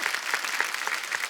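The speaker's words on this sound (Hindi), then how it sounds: "जोरदार तालियां" A studio audience applauds at a television comedy show, a short burst of steady, moderately distant clapping from many hands.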